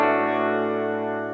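A single guitar chord rings through a budget reverb pedal and sustains evenly, with a shimmering, slightly effected tail that fades only a little over a second.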